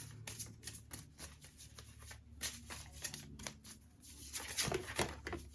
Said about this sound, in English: I'll go ahead and shuffle this and see what messages pop out